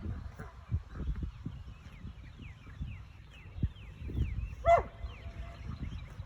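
A dog barks in a few sharp, mid-distance bursts while cows charge at it in an open field, with people's voices faintly urging it on in between.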